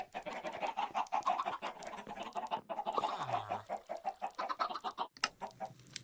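Minecraft chickens cluck in a busy, overlapping stream of short clucks and ticks from a farm contraption, fairly close and continuous throughout.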